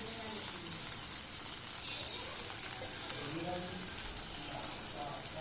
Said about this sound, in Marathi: येथे मी एक पळी तेल घातलेलं आहे आणि बारीक चिरून कांदा घातलेला आहे आणि मिरच्या पण आहेत घातलेल्या